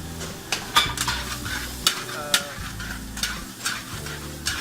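Onions frying in butter in a pan, a low steady sizzle broken by regular clinks and scrapes of a metal spoon stirring against the pan, close-up with no speech.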